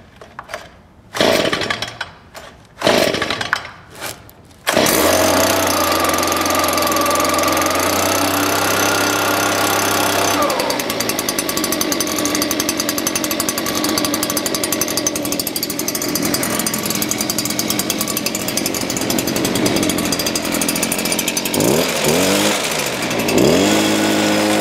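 Stihl SH 56 C-E shredder cold start: a few sputtering pull attempts, then the small two-stroke engine catches and runs loud and steady, its pitch shifting as the throttle changes.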